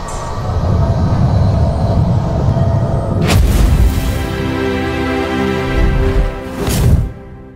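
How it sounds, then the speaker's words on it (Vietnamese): A loud village machine engine runs with a dense, heavy rumble and pounding that stays constant, with harsh bursts of noise over it. The sound then swells briefly and cuts off at the end, with no voices. "Đi ra xem cái máy gì mà nó nổ to này."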